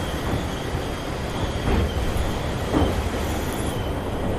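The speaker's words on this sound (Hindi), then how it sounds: "ये कितनी स्लो चल रही है ट्रेन।" A train rolls slowly across the Pamban rail bridge, a steady broadband rumble of wheels and rail with two faint clanks as carriages pass over joints, continuous throughout with no talk.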